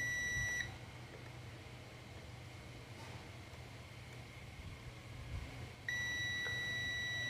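A digital multimeter on continuity mode gives a steady high-pitched beep while probing a ground pin on a Mahindra Jeeto Supro ECU. The tone sounds briefly at the start, drops out over a humming background, then returns near the end.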